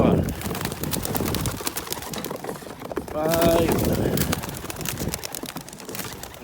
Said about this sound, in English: We've got 50 birds here.